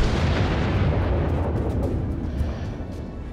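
Heavy battleship gunfire from the USS Wyoming, a tier 4 battleship in World of Warships, heard as a loud, dense, continuous booming roar with no pause or talking.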